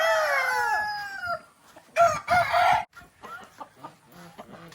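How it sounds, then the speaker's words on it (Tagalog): Chickens on a farm: a rooster crows loudly and close up at the start, followed by bursts of clucking and squawking, then quieter scattered clucks. "may manok doon"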